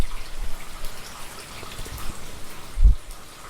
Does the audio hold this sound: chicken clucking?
no